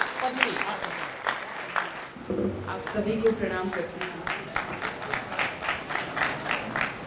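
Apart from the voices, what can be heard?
audience applause at poetry recital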